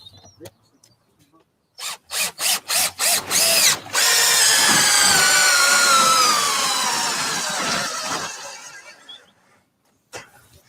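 Power drill driving treated exterior coach screws into wood outdoors in a garden: several short trigger bursts, then one long loud whirring run that slows and fades, close by, with brief talk before and after.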